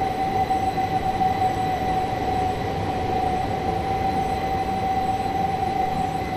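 A Southern Class 455/8 train in Train Simulator 2019 gives a steady rumble with a sustained high whine holding throughout, a long continuous pass of a 12-car train at constant loudness with no voices.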